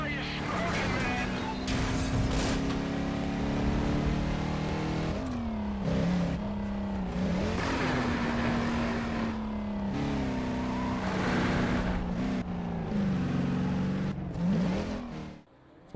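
Racing car engines from Forza on the original Xbox, played with a Logitech G920 wheel, drone steadily and shift pitch through gear changes and revs, loud and continuous, with a person talking over it.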